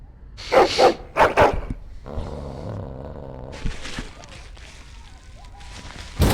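A dog in the video game Dragon Age: Origins gives a few loud, sharp barks in quick succession, followed by a lower rumbling and scattered background noises.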